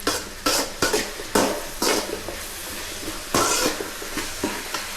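Tomatoes fry in a pan for egg pasta under a steady sizzle, while a utensil scrapes and stirs in repeated loud, close strokes at irregular intervals.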